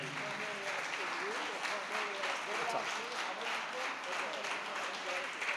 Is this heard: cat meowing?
no